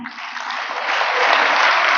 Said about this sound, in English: I believe we deserve an applause for that